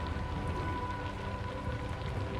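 Steady rain in the game Assassin's Creed Shadows, a soft, even patter on surfaces that continues without pause at low volume beneath a faint tonal hum, with no voices.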